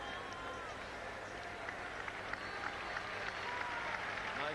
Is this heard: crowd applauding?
yes